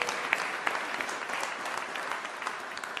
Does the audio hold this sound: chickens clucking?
no